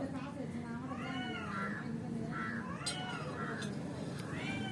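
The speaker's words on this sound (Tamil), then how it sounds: "மியாவ் மியாவ் கத்துறான் பூனா" A cat meows repeatedly in a loud, drawn-out, slightly wailing way, several cries in a row close by, over continuous background sound with voices.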